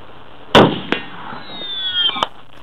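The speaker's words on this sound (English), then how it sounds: "this gentleman is out here in the desert shooting his bolt-action 50 cal at steel" A bolt-action .50 cal rifle fires at steel in the desert: one sharp loud crack, a quick metallic clang, then a thin whining ricochet that sweeps downward before a final tap, outdoors and loud.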